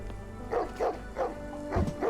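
Two dogs bark in the Sherlock Holmes The Awakened video game: a series of deep bow-wow barks comes in several bursts at moderate loudness over a low steady background hum.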